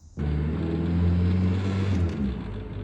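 A Premier 118NE Turbo restomod car drives on a racetrack, its engine starting up abruptly into a close, steady droning hum that holds then eases slightly near the end.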